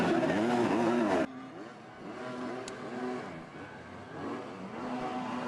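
MXGP motocross bikes race at the Netherlands round as one overtakes another for second place, their engines whining and rising and falling in pitch, loud at first and then more distant, with an announcer talking over them.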